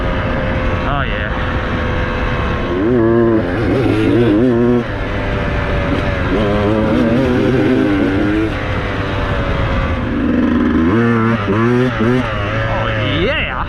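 Beta 200RR two-stroke dirt bike ridden on wooded single track over logs, engine revving up and down in rapid bursts close to the microphone as the rider shifts and accelerates.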